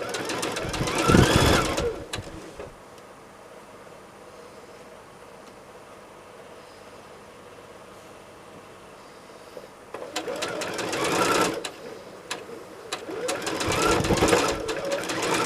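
A sewing machine chain pieces quilt blocks with a quarter-inch seam, running in two close, rapid mechanical bursts at the start and near the end, separated by a quiet stretch.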